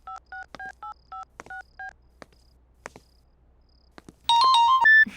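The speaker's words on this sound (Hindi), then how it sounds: "सिमरन को फोन करता हूँ।" A phone call is dialed: about eight short, evenly spaced keypad tones beep in quick succession, a few soft clicks follow, then a louder ringing tone starts at the end.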